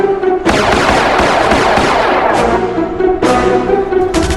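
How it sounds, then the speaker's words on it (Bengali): A gun is fired into the sky in loud, close bursts of rapid shots. A dense crackling volley starts sharply, then fresh bursts break out again and again, each followed by a rattling decay. "আরো গুলি মারো"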